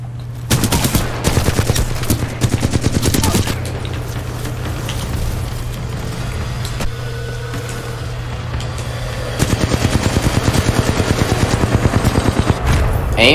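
Rapid automatic gunfire from a robot army in Titanfall 2, loud bursts of closely spaced shots in several volleys at the start and again near the end, over a steady low mechanical hum, with no talk.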